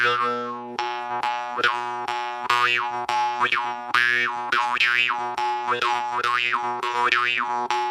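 A jaw harp plays live with a steady droning twang, while quick tongue movements sweep the overtones up and down in a bouncing, rhythmic wah pattern, close and clear.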